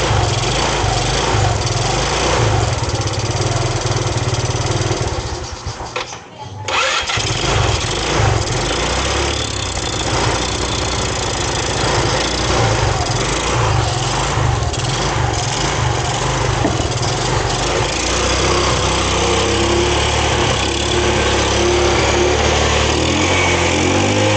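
A Rusi motorcycle engine started for a test and left running, a loud, steady buzzing drone with a brief dip early on before it settles back to an even, close-up idle.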